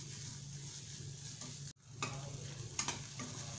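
Finely sliced capsicum fries in a pan for egg manchurian, giving a steady, faint sizzle. A brief cut of silence breaks it, and light stirring scrapes follow.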